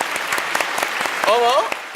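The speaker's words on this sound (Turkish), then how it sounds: "Bir kocaman alkış rica ederim." Dense clapping from a game show audience fills the clip, with a whistle rising through the middle and cheering voices mixed into the applause.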